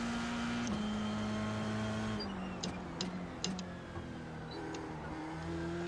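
An F3 race car engine in a racing video game holds a steady droning note, with pitch shifting as the throttle changes through a chicane, accompanied by a few brief ticking clicks, fairly quiet and without voices.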